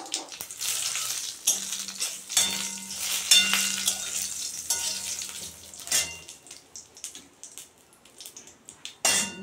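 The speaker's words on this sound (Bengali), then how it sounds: "আর 1 চামচ রাঁধুনি ফোড়ন দিয়ে দিলাম" Radhuni seeds hit hot oil with a crackling, spitting sizzle that swells and fades in bursts, along with clinks of a spoon against the pan and a low steady hum.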